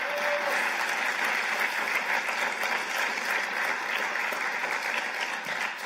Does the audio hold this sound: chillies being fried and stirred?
no